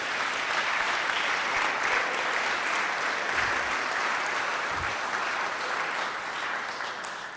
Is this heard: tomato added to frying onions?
no